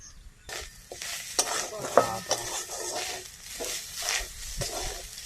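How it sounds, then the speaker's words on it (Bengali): Grated coconut stirred and fried in oil in a pan for a Bengali masoor dal, giving a steady crackling sizzle broken by repeated scraping stirs and occasional utensil clinks, with no talking. "নারকেল কোড়া দিয়ে দেবো। তেলটা একটু নাড়াচাড়া করে ভেজে নিলাম।"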